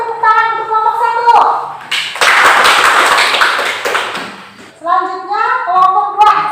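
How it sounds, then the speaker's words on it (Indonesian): Loud applause from a classroom group breaks out between bursts of children's speech, a dense clapping roar lasting a few seconds before voices resume. "Kita kasih tepuk tangan untuk kelompok 1"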